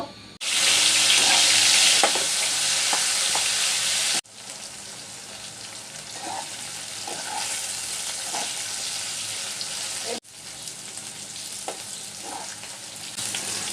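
Okra goes into hot soybean oil in a frying pan with a loud burst of sizzling, then settles into a steady crackling fry that continues through two abrupt cuts.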